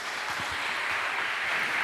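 A church congregation applauding during a Sunday celebration service, steady dense clapping that holds at an even level throughout.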